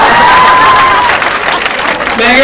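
Audience at a Punjabi comedy show applauding loudly and steadily, with crowd cheering and a whistle-like tone rising above the dense clapping, heard up close.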